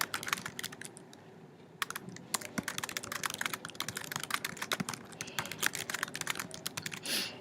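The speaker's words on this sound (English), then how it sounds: "I'll just type it here" Rapid, uneven clatter of keys on a computer keyboard, close and fairly quiet, with bursts and short pauses throughout and no talking.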